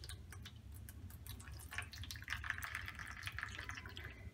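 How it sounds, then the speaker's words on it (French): Water dripping and trickling from a soaked dye packet of vegetable peelings steeped in vinegar as it is drained, a soft close patter of irregular drops and small splashes over a low background hum. "Je l'égoutte."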